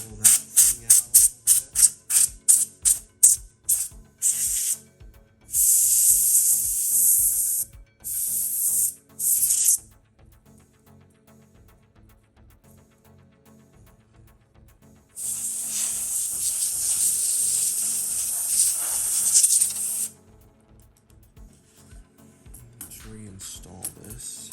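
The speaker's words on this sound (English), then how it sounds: "I'll take some compressed air, pull that thing out a little" Compressed air sprays onto the roller pad of an iMac G3, in two long sharp hissing blasts of several seconds each, close and loud, with quick clicks before them and quieter rubbing in between.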